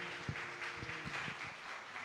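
Church congregation applauding during a worship service, a steady wash of clapping from many hands filling the room throughout, with a few louder nearby claps standing out.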